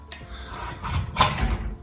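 Sandpaper and a sanding block rasp over a wooden guitar body being aged, a few short scrubbing strokes with one louder pass near the middle.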